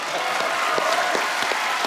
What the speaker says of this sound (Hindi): जोरदार तालियां बनती है